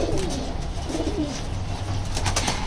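Pigeons coo in soft, repeated throaty rolls close by, against a steady background hum and occasional light knocks.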